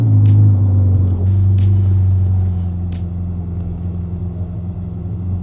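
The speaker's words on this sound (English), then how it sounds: "I always love the sound of a V8, and this, no exception." A V8 supercar engine starts with a loud, deep rumble close by, then settles into a steadier, quieter idle with a few short higher-pitched chirps over it.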